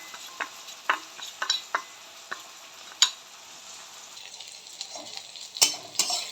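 Onion and tomato fry in a pan for spicy egg Maggi, with a soft sizzle beneath frequent sharp clicks and scrapes of a spoon stirring against the metal, close by and with no voices.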